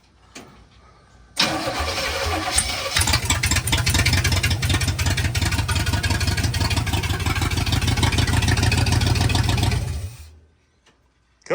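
A 1969 Chevy Blazer engine hot-wired at the coil cranks and catches, then settles into a loud, steady, rumbling idle close by for about eight seconds before cutting off.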